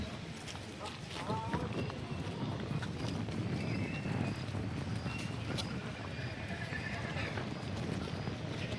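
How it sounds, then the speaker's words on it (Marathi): A horse is led around at the Yeola horse market, its hooves clopping in a loose rhythm on the ground amid crowd chatter and market bustle, with people talking nearby. "बघा एक कुम्मीट टिक्का घोडा आहे बघू शकता तुम्ही"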